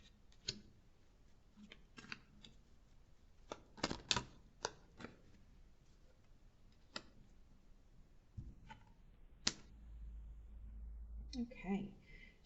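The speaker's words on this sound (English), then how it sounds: "the card shuffling is extremely loud on this microphone" Tarot cards are shuffled and tapped in uneven bursts of sharp clicks and flicks, close to the microphone, with quiet pauses between.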